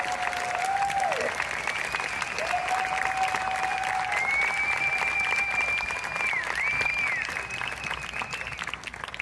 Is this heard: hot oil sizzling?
no